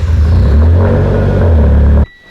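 A car engine on a lift fires up and revs loudly for about two seconds, a steady heavy rumble with rising throttle, then cuts off abruptly into near silence.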